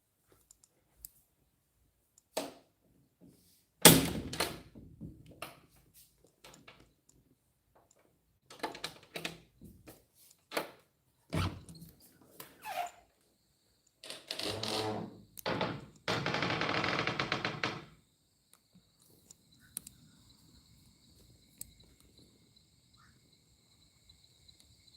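Frogs croaking outdoors in irregular bursts of clicking, rasping calls, building to a dense buzzing chorus midway before fading to sparse calls, fairly close with no talking.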